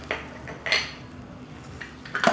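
A metal spoon clinks and scrapes in a bowl while chicken cutlet mixture is mixed with chaat masala, roasted cumin, green chilli, red chilli powder and coriander, giving a few short, close knocks separated by quiet gaps.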